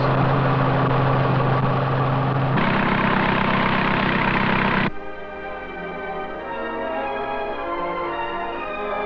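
A small training aircraft's carburetted engine idling with a steady, rough drone, the tone shifting abruptly midway to a smoother, lower hum.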